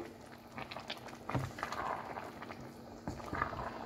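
One-pot pasta with vegetables boiling in a pot while being stirred: a low bubbling simmer with soft scraping and knocking from the spoon, fairly quiet and close, no talking.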